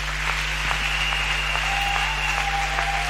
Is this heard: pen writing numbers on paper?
no